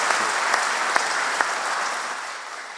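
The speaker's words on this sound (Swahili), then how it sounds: "Situwapigie makofi tafadhali" A congregation at a live Kikuyu church service applauds, a dense steady clapping that fills the room from start to finish and fades slightly at the end.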